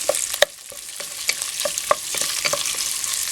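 Steady sizzle of boiled pork frying in cooking oil in a large pot for macaroni sopas, with sharp spattering pops and occasional utensil clinks close up, loud and without any talk.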